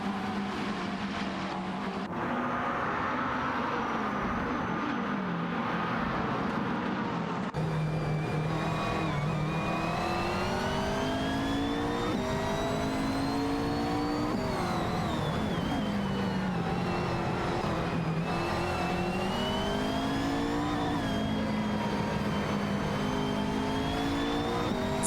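Video game race cars roar continuously with engine notes rising and falling as they shift gears and jockey for position, a steady loud whine throughout.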